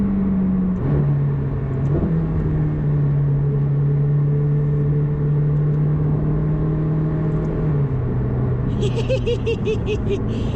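A Ferrari 458 Speciale V8 engine drones steadily with exhaust valves open, its pitch climbing and dipping as it revs past 4000 rpm, with a brief higher whine near the end; continuous and close.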